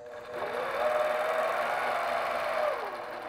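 Longarm quilting machine stitching ruler work across a quilt block, a rapid rhythmic mechanical whir that rises in pitch as it speeds up, holds steady, then slows and stops, heard alone.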